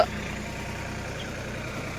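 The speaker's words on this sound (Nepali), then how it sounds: "यहाँ ट्र्याक्टर अब धान रोप्ने जोताइ चलिरहेको गाइज हो।" A tractor ploughs a paddy field ahead of rice planting, its engine droning steadily and fairly loud, a continuous mid-low rumble with no break and no talk over it.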